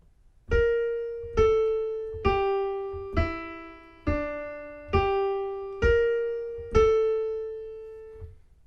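Eight single piano notes are struck slowly and evenly, each ringing and fading before the next, forming a calm descending-then-rising melody with no other sound.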